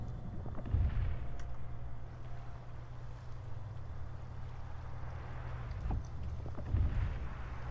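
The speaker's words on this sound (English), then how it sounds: "Am I supposed to be hearing the explosion still?" Explosions in the INSIDE video game rumble as deep, muffled booms over a constant low drone, with a few heavier thuds standing out near the start and toward the end.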